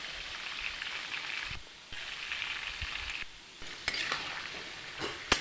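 Fruit pickle with mustard paste is stirred in a pan, giving a soft, steady sizzle with a few scraping strokes and light knocks; quiet and close, with no talking.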